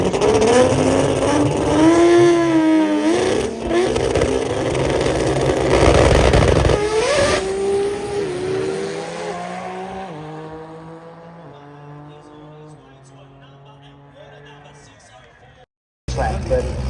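An import drag car makes a solo pass at a Brisbane drag meet, engine revving hard through rising gear changes and then fading into the distance, with commentators talking over it throughout.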